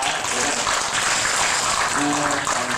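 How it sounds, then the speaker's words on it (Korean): A church congregation claps together after reciting scripture, producing a steady, dense wash of applause that holds evenly throughout with some voices mixed in. "박수 한번 칩시다."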